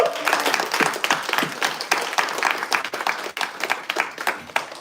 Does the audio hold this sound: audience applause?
yes